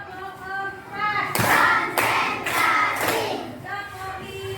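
Children in a classroom clap a counted rhythm, several loud unison clap bursts spaced about a second apart, with a teacher's voice speaking between and around them.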